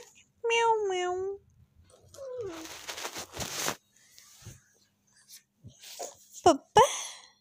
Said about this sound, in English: Cat sound, meow.